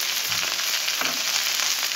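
Sliced okra and a large onion frying in a pan for okra thoran, giving a dense, continuous close sizzle with a couple of soft stirring scrapes.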